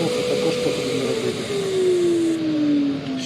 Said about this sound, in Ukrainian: Він настільки голосно працює, що ви не зможете нормально працювати, бо потрібно суттєво підвищувати голос